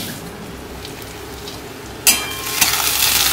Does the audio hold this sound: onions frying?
yes